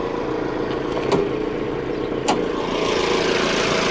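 A 2015 Chrysler 200 with its 2.4-liter Tiger Shark four-cylinder idles under an open hood, a steady close engine drone with a couple of faint clicks and no talk.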